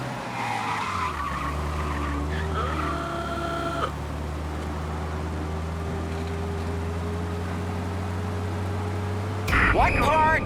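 A video game car engine drones steadily at high revs while speeding away from pursuers, with a burst of tire screeching near the end; a voice talks over the noise.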